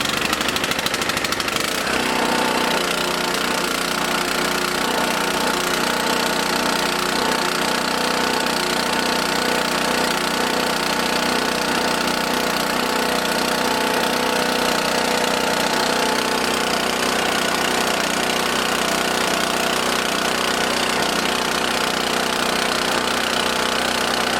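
A small gasoline engine running on 87 fuel catches after a brief start and settles into a steady, buzzy running note that holds for over twenty seconds, close and continuous with no talk.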